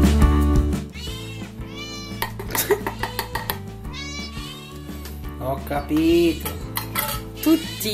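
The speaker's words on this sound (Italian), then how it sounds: "E adesso mangiano i gatti" Cats meow repeatedly in a home kitchen at feeding time while dishes, pans and cutlery clink and scrape nearby, with a person talking over the scene.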